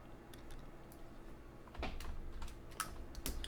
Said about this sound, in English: I'm just gonna type it in Desmos.